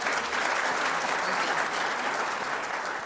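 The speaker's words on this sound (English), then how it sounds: "let's give her a round of applause" An audience at a mayor's 2017 accountability report event applauds steadily, a dense, even wash of clapping that holds for the whole span without any voices breaking through.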